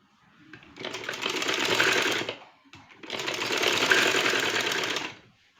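A sewing machine stitches a seam on capri trousers in two steady runs of about two seconds each, a rapid even rattle with a brief pause between and no talk.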